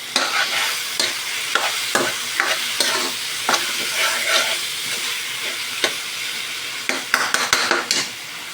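Ground pork frying and being stirred in a pan: a steady close sizzle broken by repeated scrapes and clinks of a utensil against the pan, with no talking.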